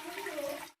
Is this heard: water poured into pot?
yes